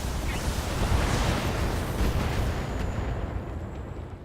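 Mech weapons fire and explosions in the video game BattleTech form a loud, continuous barrage of booming blasts and rumbling impacts. The roar holds steady before thinning out slightly toward the end.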